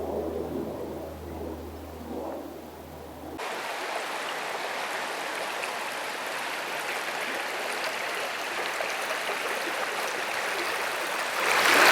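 A river rushes through a canyon in Buky, a loud, dense, continuous roar of flowing water that takes over after a quieter opening and swells slightly at the end.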